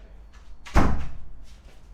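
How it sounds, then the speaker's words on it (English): Door opening or closing indoors with a single loud thud and rattle midway, then fading, over a low steady hum. "I'm just gonna help with the door"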